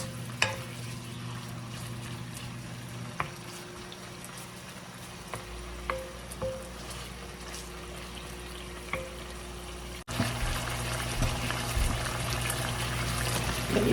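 Oil sizzling in a wok, a soft steady crackle with occasional sharp clicks and taps, growing louder and denser in the last few seconds.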